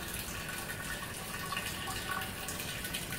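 Liquid pours steadily from a tap during a homebrew forced-carbonation setup. The gushing, splashing flow stays constant and faint from start to finish, with no talk.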